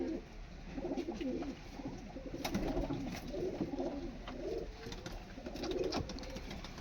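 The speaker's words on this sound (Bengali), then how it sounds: "এই যে নর পায়রা" Pigeons, including a male, coo in low, rolling phrases that repeat throughout, close but fairly quiet over a light background hum.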